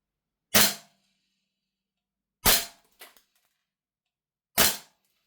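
A Gunsmodify HK416A5 gas blowback airsoft rifle fires three sharp, loud single shots about two seconds apart, with a small metallic rattle just after the second, and no talking.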